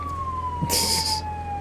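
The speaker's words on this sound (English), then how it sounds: "I can't hear the briefing because we're running the sirens." A video game fire truck's steady siren tone drones on with a short bright hiss burst in the middle, no talking.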